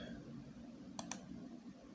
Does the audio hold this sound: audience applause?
no